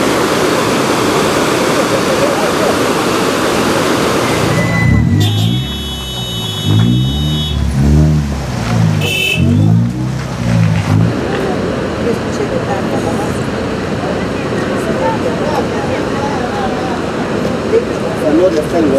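A flooded river churns in a loud, steady roar beneath the Aljomachay bridge, with a vehicle passing over the span partway through and a voice faintly speaking over the continuous rush of water.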